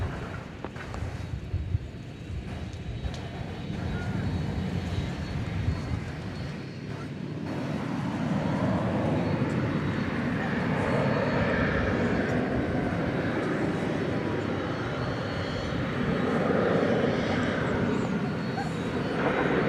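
An airliner takes off from a runway at DFW airport at night, a broad engine roar building from a lower rumble into a loud sustained thrust that fills the scene, with wind buffeting.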